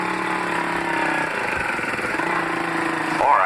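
A motorcycle engine runs steadily at low revs, a near, even mechanical hum with a brief rise at the end.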